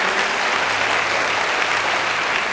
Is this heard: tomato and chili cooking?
no